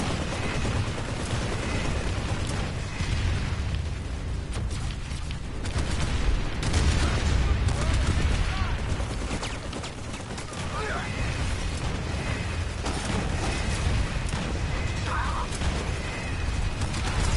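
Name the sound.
rocket and gunfire in video game Planetside 2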